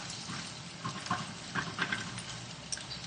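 Tortellini toasting in a hot pan, a soft steady sizzle with faint crackles and small pops rising now and then, close and moderately quiet with no talking.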